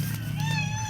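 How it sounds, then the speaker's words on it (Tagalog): A cat in labor lets out one drawn-out, strained meow, close and clear. "manganganak na po ang isa naming alaga, si Garby."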